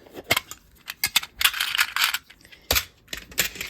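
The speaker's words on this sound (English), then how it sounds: "I'm going to get some of my little clips" Metal quilting clips clink and rattle as they are picked up and handled, a quick string of close, bright taps and jingles in irregular bursts, with no talking.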